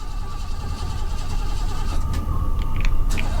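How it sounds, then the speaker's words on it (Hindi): A car engine fails to start at night on a highway, with a steady low mechanical rumble and whir that never catches, loud and close, without speech. "मेरी गाड़ी क्यों नहीं स्टार्ट हो रही?"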